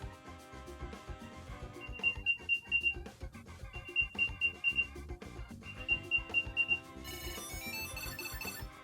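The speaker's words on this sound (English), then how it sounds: "Let's play first the AirTag." A small Apple AirTag tracker chirps in short repeated bursts of high beeps, pausing between groups, over a busy background of music-like tones.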